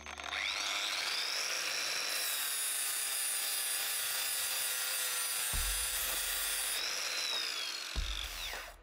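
A Herman WX-12506 brushless 1300 W angle grinder with speed control grinds with a ceramic disc, giving a loud, steady high-pitched whine and abrasive rasp that runs continuously with slight dips in tone as pressure changes.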